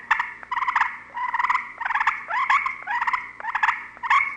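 Wild turkey clucks and yelps made on a slate call by rubbing a striker in short straight strokes, a rapid series of sharp, close, raspy bird-like notes in repeated bursts.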